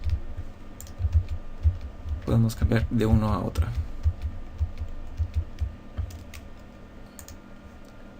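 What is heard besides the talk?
computer keyboard shortcut being typed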